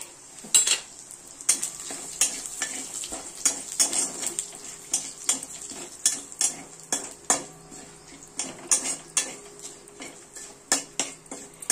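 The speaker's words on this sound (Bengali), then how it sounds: "ওই তেলের মধ্যে দেবো একটা শুকনো লঙ্কা, একটা তেজপাতা, আর দেবো সামান্য একটু জিরে" Dry red chilli, bay leaf and cumin frying in oil in a pan, with repeated sharp clinks and scrapes of a metal utensil against the pot over a soft sizzle, steady and close throughout.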